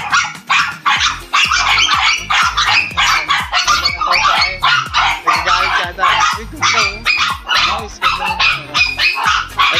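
Shih Tzu dogs barking and yipping in rapid, continuous bursts close by, with a person's voice talking over them.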